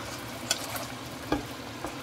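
Ampalaya with sardines and scrambled eggs sizzles in a pan while a utensil stirs and scrapes, a steady frying hiss broken by a few sharp clicks, close and moderately loud.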